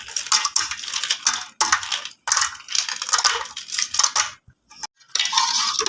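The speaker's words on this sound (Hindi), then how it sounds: "तो अब हम इसमें डालेंगे बर्फ़।" Ice cubes tumbling into cooled almond milk, a run of loud clattering, crunching knocks in several bursts with brief pauses between.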